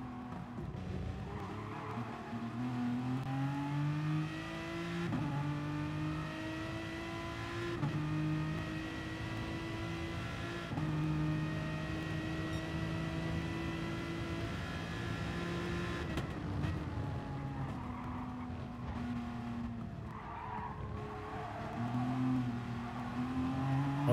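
A race car in Gran Turismo Sport laps the Dragon Trail Gardens track with a steady, high engine drone whose pitch rises and falls through gear changes, while a commentator talks over it.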